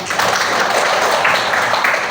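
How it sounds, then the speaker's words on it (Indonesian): Classroom applause during a microteaching session, a steady broadband wash of clapping from a group of students lasting the full stretch, fairly loud and even with no talk over it. "tepuk tangan untuk kita bersama"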